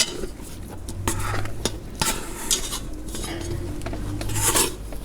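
A scoop scrapes and knocks through no-knead herb and parmesan bread dough in a bowl, with several sharp metallic clicks and soft scraping, close and moderately loud, no speech.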